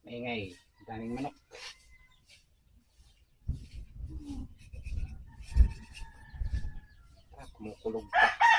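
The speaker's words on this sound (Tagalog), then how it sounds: "Maingay, daming manok." Several chickens cluck and a rooster crows in short bursts between stretches of people talking nearby, the fowl calls faint to moderate and partly under the speech.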